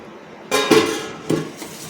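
A lid is placed over a bowl of Gujarati gunda pickle mix, giving a couple of close, sharp clinks of metal against the bowl. A second lighter tap follows about half a second later, and the rest is quiet.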